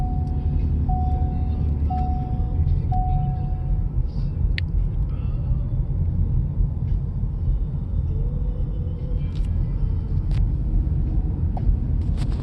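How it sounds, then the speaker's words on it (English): A low, steady engine hum rumbles inside a moving 2019 Ford Fusion Hybrid, faint and smooth, with a few short soft beeps near the start. "You can kind of barely hear the engine."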